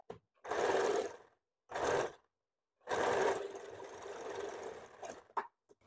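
A sewing machine stitches a bra cut blouse in three bursts of steady whirring, two short runs with pauses and then a longer slower run, close and clear.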